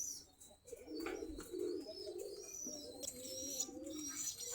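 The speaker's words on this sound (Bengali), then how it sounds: "আমাদের গিরিবাজ কবুতর দেখেন একটা গাছের মধ্যে বসে রয়েছে, পেয়ারা গাছ" A Giribaz pigeon perched in a guava tree coos in soft, repeated low phrases close by, with faint chirps from other birds in the background and no talking.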